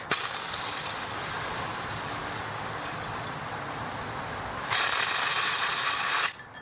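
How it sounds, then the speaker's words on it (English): A Sabre Red home defence pepper gel canister spraying in one steady, loud hiss lasting several seconds, growing harsher near the end before cutting off abruptly. "That was about a 3-second spray."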